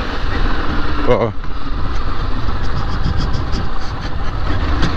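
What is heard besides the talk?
Honda CG 160 Fan motorcycle engine making strange noise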